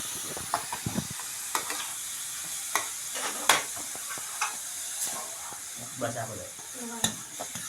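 Carrot halwa roasting in a pan, with a continuous sizzling hiss and scattered scraping stirs and clinks of a spoon, while a voice speaks briefly over it.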